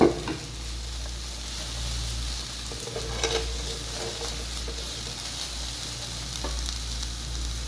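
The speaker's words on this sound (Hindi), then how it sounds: "मैंने कढ़ाई ले ली है, उसके अंदर मैं ये प्याज जो लच्छेदार थे वो इसके अंदर ऐड कर दूंगी इस तरह" Sliced onions sizzling in a hot kadai, a steady frying hiss throughout with faint stirring clinks and a low background hum.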